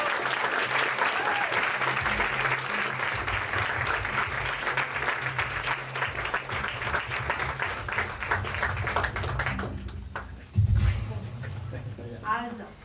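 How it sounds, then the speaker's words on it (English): A large audience applauds steadily at a Science Slam event in Villach for the speaker Claudia Kubiak, dense clapping for about ten seconds before it fades and a speaker briefly talks. "Big applause for Claudia Kubiak."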